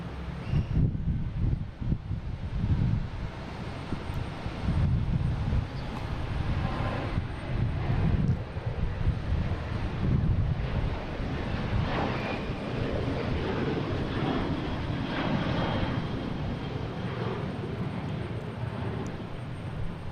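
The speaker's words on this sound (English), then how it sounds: "Got a Southwest heading to Nashville." Southwest airliner's jet engines at Boston Logan, a broad, rumbling roar with gusty wind buffeting, steady and fairly loud throughout with no talk.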